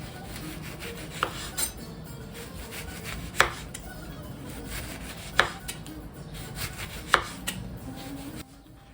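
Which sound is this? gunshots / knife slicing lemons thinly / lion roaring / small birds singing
knife slicing lemons thinly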